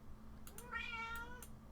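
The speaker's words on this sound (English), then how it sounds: "There's a cat." A cat meows once near an old Vectra VL5 computer, a single drawn-out mid-pitched cry over a steady low hum.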